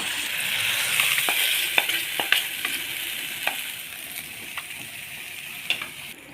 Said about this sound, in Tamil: இதையும் நல்லா வதக்கிக்கலாம் பச்சை வாசனை போனால் போதும்